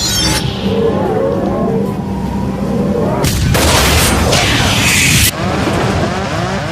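A loud, sustained roar and rush of escaping air from an aircraft windscreen blowout, with a sharp burst of broadband noise near the middle and continuous turbulent wind noise throughout.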